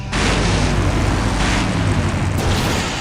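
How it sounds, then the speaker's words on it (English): A loud, sustained explosion in Full Throttle Remastered, a deep rumbling blast that fills the whole stretch with dense roaring noise and stays heavy from start to finish. "Now that's an explosion, ladies and gentlemen."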